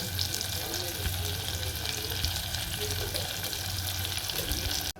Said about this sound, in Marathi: बटाट्याची रस भाजी बनवते पहिला. मसाले घालते.